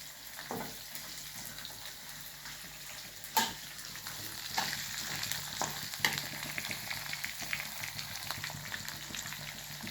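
Green chillies fry in hot oil for lemon rice, a continuous close sizzle with scattered pops and occasional clinks of a spoon against the pan, no voices over it.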